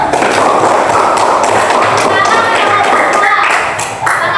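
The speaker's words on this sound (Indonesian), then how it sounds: "Oke, tepuk tangan dulu satu persatu" Students in a classroom clap their hands, a loud run of close, rapid claps and thumps, with a voice speaking briefly over them.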